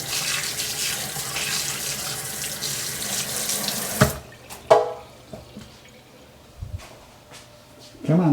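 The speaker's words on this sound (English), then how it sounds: "As you can see, I'm constantly washing my hands." Water runs steadily from a kitchen tap as hands are washed beneath it, a continuous close splashing hiss for about four seconds, then the flow stops, leaving a few faint drips and soft clunks.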